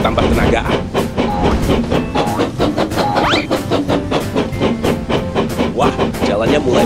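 A toy brick-built Pacific 4-6-2 locomotive runs along its track with a loud, close, rhythmic clatter and whir, beneath a steady layer of playful narration.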